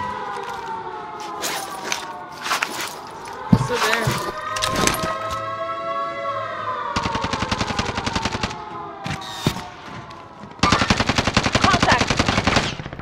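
Warzone video game gunfire: rapid automatic bursts and sharp single shots crackle in repeated clusters over a droning tonal siren-like background, with a long sustained burst near the end, loud and close, with game voices mixed in.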